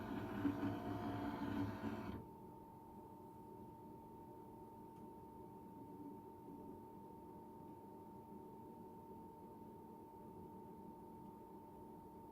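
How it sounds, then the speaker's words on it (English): An HP Deskjet printer moves its cartridges to the center with a loud mechanical whirring for about two seconds, then settles into a faint, steady electrical hum. "printer is taking time to centralize the cartridges"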